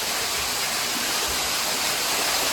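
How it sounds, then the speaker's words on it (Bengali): A waterfall near a dark cave at the Garden of Caves near Cherrapunji, a dense continuous rush of falling water with no voices. "কি সুন্দর ঝর্ণা, এখানে জল পড়ছে।"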